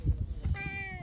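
A park cat meows once, a drawn-out tonal call close by, following low rumbling handling noise.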